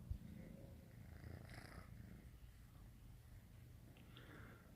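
A cat purring softly and continuously close by, a low rumbling drone that holds steady for several seconds with faint background noise.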